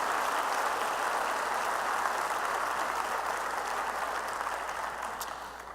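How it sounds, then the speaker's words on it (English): Steady applause from the audience at a teacher appreciation event thanks the event sponsors, a continuous, fairly distant wash of many hands clapping that holds even and then slowly fades at the end. "if you could give all of these folks a round of applause"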